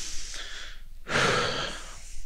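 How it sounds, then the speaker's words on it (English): A group of listeners at a high school gathering draws one deep, shared breath, a loud broad rush of inhalation and exhalation lasting about a second, preceded by a softer breathy stretch, with no talking. "Now, everybody take a deep breath."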